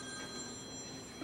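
A telephone rings during a city commission meeting, a faint steady electronic tone held through the short span over a quiet room hum.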